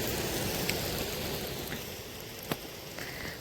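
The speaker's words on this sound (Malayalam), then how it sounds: "നല്ല മഴയുണ്ട്" Steady, dense hiss of heavy monsoon rain pouring down close by in Wayanad, with a few brief sharper drips and taps breaking through.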